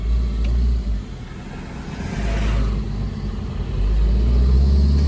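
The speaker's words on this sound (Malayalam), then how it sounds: "ബെൽറ്റ് ഹെവി സൗണ്ടാണ്, കിലിയിലാന്ന് പറഞ്ഞ് അടിച്ചിട്ടുണ്ട്." A Chevrolet Enjoy engine idles steadily with a heavy, loose drive belt noise tied to a worn tensioner or idler bearing. The rumble is close and continuous, with a slight dip in level early on.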